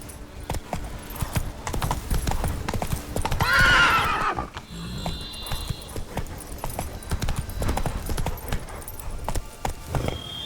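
Clip-clopping hooves of Roach, a horse in The Witcher 3, beat steadily close by, with a loud whinny near the middle and ambient game sounds around it.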